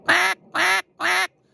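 A duck call blown toward an open hand gives three loud, evenly spaced nasal quacks, close and distinct, each about a quarter second long with short silences between.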